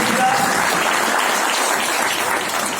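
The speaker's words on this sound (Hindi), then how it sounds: "जोरदार तालियों में अपने अमिताभ लोधी जी की पूरी टीम" Loud, dense applause fills the room for Amitabh Lodhi's team at a Netsurf business meeting, a steady, continuous roar of many hands clapping with no break for the whole stretch.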